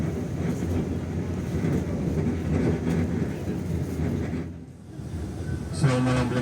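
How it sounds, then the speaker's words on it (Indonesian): The Blambangan Express pulls away from Surabaya Gubeng station at night, a steady close rumble of rolling wheels and carriage noise that dips briefly before a new burst of sound near the end. "Pukul 21:59 kereta api Belambangan Express berangkat dari stasiun Surabaya"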